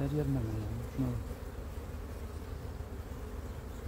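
Agitated honey bees swarm around an opened hive being split, their buzzing a close, continuous drone with individual bees whining past, briefly under a faint voice.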